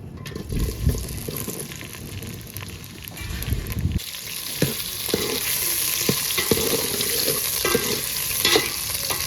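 Vegetables and spices hit hot oil in a pan, a loud continuous sizzle and crackle with stirring clatter that grows busier after a sudden shift a few seconds in.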